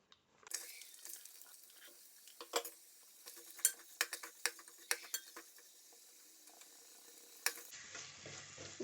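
Sliced onions frying in oil in a pan for a country-style chicken curry, a steady soft sizzle broken by frequent sharp clinks and scrapes of a stirring utensil against the pan, close by with no talking.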